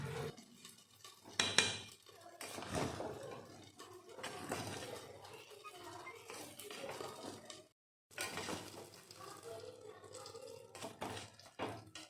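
Metal pot and utensil clatter while checking khuder bhat (broken rice) cooking in a pot on a gas stove, with repeated clinks and scrapes, a sharp knock early on and a brief pause midway.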